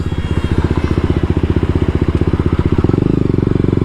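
A motorcycle fitted with an aftermarket exhaust rides along, its loud, close engine giving a rapid, even, pulsing thump that holds steady and deepens slightly near the end.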